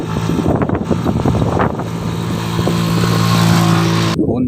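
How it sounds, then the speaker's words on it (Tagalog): A Honda tricycle engine strains up a steep road, a close, loud, throbbing motorcycle-type drone with wind buffeting the microphone and brief speech early on, cutting off abruptly near the end. "So malakas nito tricycle na ito."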